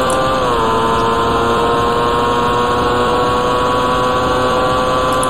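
A race car engine in the video game IndyCar Racing II holds a loud, steady high-pitched whine that dips slightly in pitch early on, then drones on evenly, with no voices.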